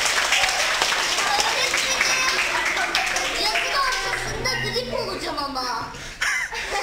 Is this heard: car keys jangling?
no